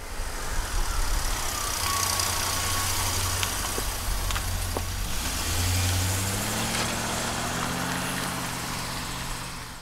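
A 1988 Lincoln Mark VII engine runs steadily at close range, idling with a low hum that rises into a light rev partway through, no voices present.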